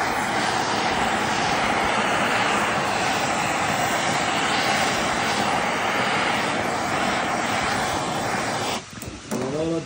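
A gas torch heats a lead sheet outdoors to make it malleable for corner bossing. The flame gives a loud, close, continuous roar that stays steady for nearly the whole stretch before a brief dip at the end.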